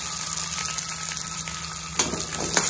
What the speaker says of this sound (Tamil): பெருங்காயம் நல்லா வதங்கட்டும்